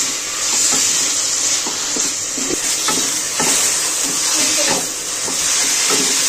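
Boiled, drained taro greens frying and being stirred into spice paste in a pan for a fish-head kochu shaak dish: a steady close sizzle with repeated scraping stirs of the spatula throughout, and no talking.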